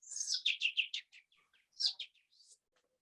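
A man imitates bird chirping with his voice in a classroom, producing a quick run of high, clipped tweets, a short pause, then another burst of chirps, fairly faint and alone without speech.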